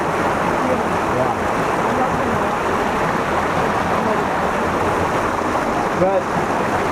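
Creek water rushing over rocks near a waterfall on Vancouver Island, a dense, steady broadband roar that stays loud and unbroken throughout.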